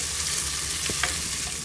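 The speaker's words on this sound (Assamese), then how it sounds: "ইফালে মই এয়া পিঁয়াজখিনি ভাজি আছোঁ" Onions sizzle steadily in hot oil for a chicken egg biryani, a close, even frying hiss with a couple of brief stirring scrapes.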